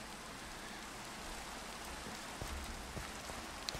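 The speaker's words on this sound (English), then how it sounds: "Now we can get rid of this stupid rain." Rain in Minecraft falls as a steady, faint hiss with a few soft ticks near the end, and no one speaks.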